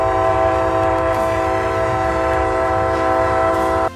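Amtrak 19 passenger train passing close by, a loud sustained multi-tone horn sounding steadily over heavy rumble and wheel noise, cutting off abruptly near the end.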